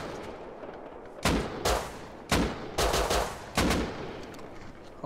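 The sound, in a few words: pistol gunshots in Rust video game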